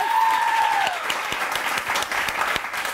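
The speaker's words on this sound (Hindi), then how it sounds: "इसके लिए तालियां बजाओ यार" Studio audience on a morning talk show breaking into applause, a short burst of steady clapping at moderate level with a brief whistle-like tone at the start.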